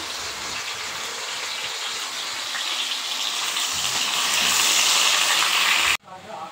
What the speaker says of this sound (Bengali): ভালো করে একটু লাল লাল করে ভাজবো, যার জন্য অল্প অল্প দিয়েছি, দুভাগে ভাজবো ওটাকে।